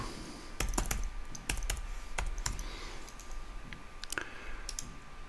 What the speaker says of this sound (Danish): Og så skriver jeg bare YouTube.